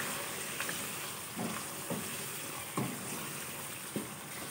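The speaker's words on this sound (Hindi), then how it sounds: "ये मैं इसके अंदर हरी मिर्चें डालने लगी हूँ" Green chillies fry in a kadai with a soft, steady sizzle, punctuated by a few faint stirring taps and clinks, quiet and without talk.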